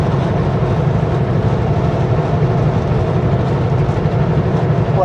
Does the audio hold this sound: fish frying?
no